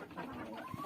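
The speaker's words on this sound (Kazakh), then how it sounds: "Мінекей күрке тауықтар мен тауықтар." Chickens clucking in a poultry yard where turkeys are also kept, a short burst of close, loud clucks with no talk over them.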